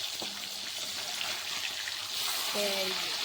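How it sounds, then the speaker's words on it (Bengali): Tail and belly pieces of rohu fish fry in oil, with a soft, steady sizzle running under a few brief tonal clinks and faint background sounds. "এই দেখো লেজা পেটি ভাজতে বসে পড়েছি তো ভাজা হচ্ছে"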